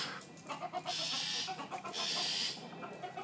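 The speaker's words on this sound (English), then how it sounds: "And then there's chicken here." Chickens and roosters kept for cockfighting in Indonesia, clucking and calling in repeated short bursts at moderate distance, with two brighter, sustained crowing-like stretches standing out over a steady background.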